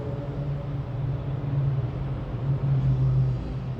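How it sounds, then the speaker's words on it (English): A car on a street, a steady loud engine rumble that swells slightly as it accelerates, heard fairly close with no voices. "Monitor that car, the loud acceleration"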